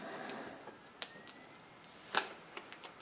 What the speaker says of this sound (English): We're ready to peel the last of our carrier sheets.